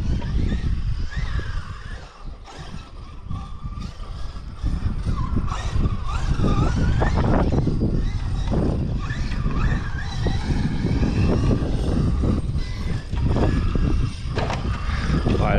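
A SMITHMASTER RCMK SCR PRO 8S electric RC car runs on a circuit, its motor whining and rising in bursts with rough rolling and gravelly skids, fairly close and fluctuating in level.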